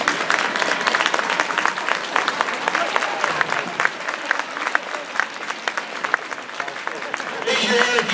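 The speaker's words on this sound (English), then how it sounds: "Give her a nice hand." Audience applauding at a horse demonstration at an equine expo, a steady dense clatter of clapping hands that runs the whole time and swells near the end, with a voice talking over it.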